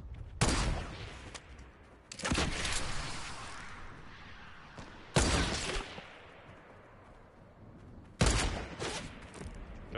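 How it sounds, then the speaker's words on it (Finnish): Gunfire in Fortnite, four loud bursts of shots at irregular intervals, each sharp onset trailing into a decaying echo, with no talk. "Jaha, 2 suunnasta ammutaan mua."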